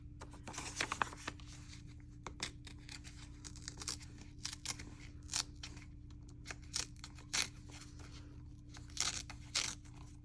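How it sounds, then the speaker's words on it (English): Paper being torn off by hand to trim excess from a collage journal page, a series of short crisp rips and crinkles scattered over a steady low hum, close and fairly quiet. "So if I have too much, I like to just tear it off."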